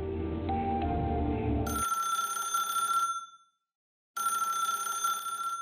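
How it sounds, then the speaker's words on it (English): Electronic telephone ring in the game Path to Nowhere, two bursts of a bright, steady ringtone separated by a short silence, preceded by a low musical drone that cuts out as the ringing starts. "In the darkness, the ringing of the phone"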